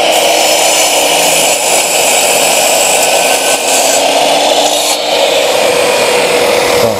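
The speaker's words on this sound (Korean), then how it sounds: "이번에 제가 베벨각을 주고 나무를 절단해 봤는데요" Light 8-inch sliding miter saw cutting through wood with the blade set at a bevel angle, a loud continuous high-pitched whine and rasp of the blade biting the board, close and sustained with no talking.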